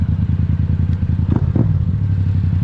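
Motorcycle engine on a test ride heard from a helmet camera, a steady loud low drone with wind rush and a couple of brief clunks, no talk.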